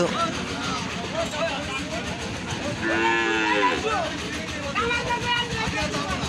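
A cow lets out a single loud, drawn-out moo nearby, amid a busy background of people talking and traffic noise.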